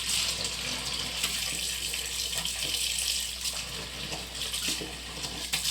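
Running tap water splashes over fish being washed with salt in a bowl, a loud steady gush with wet handling splashes, close and continuous, no talking.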